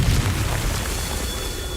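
A Confringo spell explodes in Hogwarts Legacy, a loud rumbling boom that fills the moment and slowly decays.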